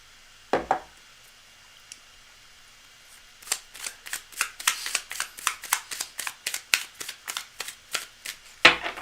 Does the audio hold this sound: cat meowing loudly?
no